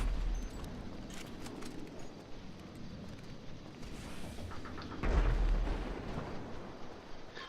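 A shot fired at bulldozers in Grand Theft Auto lands as a deep, rumbling explosive boom about two-thirds through, rising out of a steady roar of game noise at moderate loudness.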